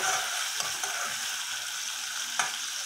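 Bacon fat frying in a pan in a home kitchen, a steady close sizzle and crackle throughout with a couple of sharper pops and light utensil clicks, no voices.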